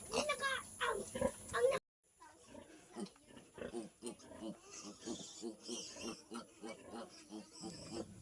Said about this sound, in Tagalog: Ayan, nagkakagulo na ang kanyang mga biik.